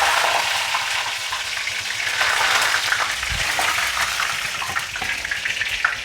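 Curry leaves hit hot oil with mustard seeds while a Kerala kovakka mezhukkupuratti is cooked, and a loud, dense sizzle fills the whole stretch with crackling and spitting.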